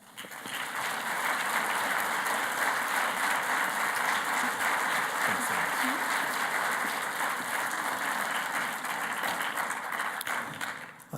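Lecture-hall audience applauding to welcome artist Theaster Gates, dense continuous clapping that holds steady for about ten seconds before tapering.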